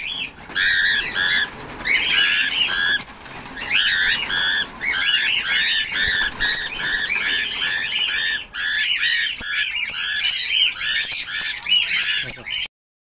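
Two pet birds squawk and screech loudly and repeatedly in close range, harsh calls coming in quick overlapping bursts throughout, with no talking.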